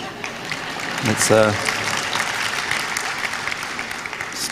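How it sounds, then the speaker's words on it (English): Audience applause at a talk on the future of jobs and automation, a steady wash of clapping across the whole stretch, with a voice briefly breaking through near the start. "Sometimes that gets a round of applause"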